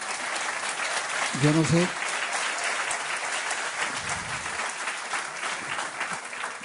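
Audience applause welcoming a guest on a Spanish radio special, a steady broadband clatter that runs throughout with a voice talking over it.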